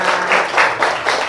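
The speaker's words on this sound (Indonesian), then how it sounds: "Ya, tepuk tangan buat kalian semua." Schoolchildren in an elementary classroom break into loud, close applause, a short burst of rhythmic clapping in quick pulses.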